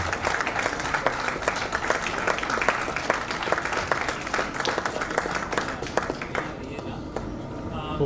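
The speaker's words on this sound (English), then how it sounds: "big round of applause please" A live audience at a regional HR network chapter gathering in Surat, India applauds steadily for about eight seconds, a dense wash of many hands clapping at even loudness, fading slightly near the end.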